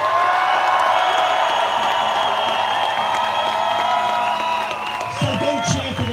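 Crowd at a University of Washington strike rally cheering and whooping loudly and continuously, a sustained roar of many voices that dips slightly near the end, with a few scattered shouts standing out.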